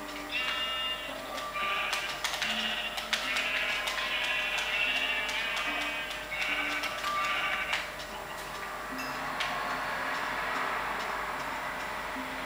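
Minecraft sheep bleat repeatedly over a busy background of ticking and clicking game sounds, steady and fairly loud throughout.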